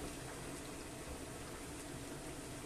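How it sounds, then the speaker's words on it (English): Chicken and rice broth simmering in a pot, a steady low bubbling hiss that stays even and close throughout, with no talking. "This is boiling nicely."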